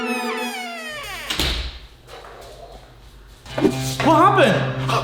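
A door swings shut with one dull thud in a children's toy play setting, with voices speaking just before and after the impact.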